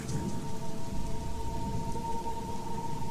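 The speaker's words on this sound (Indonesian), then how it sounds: "Dan begitu sampai, hujan turun dengan deras." Heavy rain pours down steadily outside a house in the afternoon, a dense continuous hiss with soft rumbling underneath.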